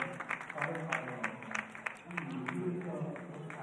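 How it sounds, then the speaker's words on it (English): A crowd claps warmly for two pairs leaving the court after a para badminton world championship match, a faint scattered patter beneath a commentator's voice. "And a warm applause for both pairs as they leave the court."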